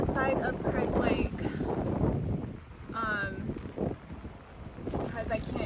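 Gusty wind buffets the microphone on Craig Lake while a person sits in a canoe near the shore, a steady low roar with swells and lulls running under a voice.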